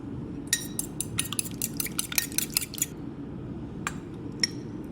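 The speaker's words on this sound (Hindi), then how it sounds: "एक अंडा डालूंगी इसमें, फेंट लेंगे इसको" An egg beaten into a batter for crispy fried fish, a spoon clicking rapidly against the bowl in quick bursts, then pausing for a couple of isolated taps, close and alone without talk.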